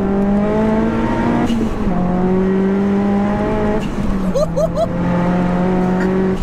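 A fully forged, big-turbo 480bhp SEAT Leon Cupra R pulls hard on boost in fourth gear, a loud, steady in-car engine drone with gear changes and turbo chirps, while a voice speaks briefly over it.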